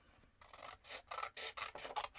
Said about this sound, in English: I am sorry about the scanner noise in the background.